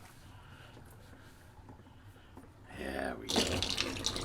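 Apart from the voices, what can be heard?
water running into a sink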